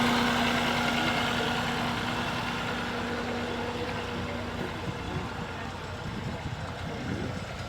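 A small turbo diesel engine idles at a steady, continuous rumble near a firewood expo, with a faint hum running underneath.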